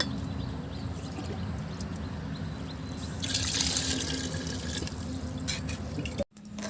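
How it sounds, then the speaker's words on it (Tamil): Water pours steadily into a cooking pot for a traditional-style mushroom biryani, a continuous splashing rush that swells midway and cuts off briefly near the end, with no talking. "இதில் வந்துட்டு நான் ஒரு 5 சொம்பு தண்ணி ஊற்றிக்கிறேன்."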